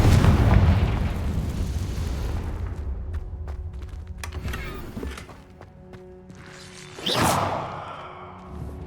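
A Confringo fire spell blast in the Hogwarts Legacy video game: a loud opening explosion that rumbles and fades, a few sharp cracks in between, then a second bright burst near the end.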